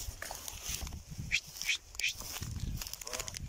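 Domestic geese call with a few short, separate honks from close by, heard outdoors near a puddle amid shuffling, rustling background noise.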